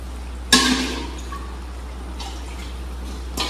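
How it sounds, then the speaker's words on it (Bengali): Water goes into a pot of rice for boiling in a Bengali home kitchen, eight cups for four cups of rice: one sudden splash that fades over about a second, then quiet room tone and a faint clink near the end. "মাপ করে জল দিয়ে দিয়েছি 4 কাপ চালের জন্য, ঠিক তার দ্বিগুণ পরিমাণ 8 কাপ জল।"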